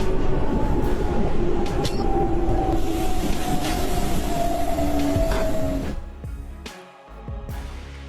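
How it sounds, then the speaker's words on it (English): A train rolls through a snowy winter landscape, heard from the passenger waiting section as a loud continuous rumble with a steady whine and squealing wheels, easing and dropping off near the end. "A glimpse from the passenger waiting section as the train moves through the depths of winter."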